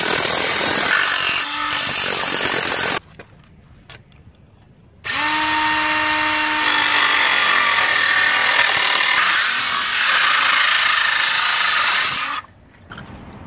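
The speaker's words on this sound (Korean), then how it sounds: "커팅기를 이용해서 자르는 모습을 보시죠" A power cutter slices through the frame of a roll-up screen door in two long, loud, harsh bursts of grinding and whining, separated by a short pause of quiet handling.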